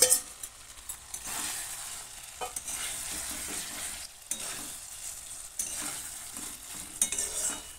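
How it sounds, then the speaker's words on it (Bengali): Fried potatoes and marinated chicken stirred in a pan for Bengali chicken curry: soft continuous sizzling with frequent scraping strokes of a spatula, near and moderately quiet. "আলুটা দিয়ে 2 মিনিট কষে এরপর দিয়ে দিচ্ছি ম্যারিনেট করে রাখা মাংস।"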